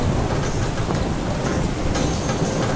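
Heavy rain pours at Thoranamalai under dark storm clouds, a dense, steady roar that holds without a break throughout.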